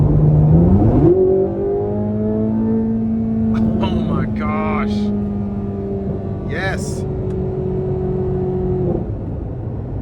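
A 2024 Chevrolet Corvette Z06 Convertible engine revs up hard and holds a loud, rising roar, with someone talking briefly over it near the end.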